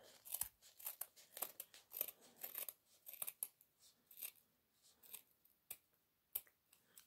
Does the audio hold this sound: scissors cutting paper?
yes